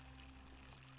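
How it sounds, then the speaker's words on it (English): Water flowing steadily in The Forgotten City, a soft, faint continuous stream with a low background hum underneath. "That's a very nice water sound."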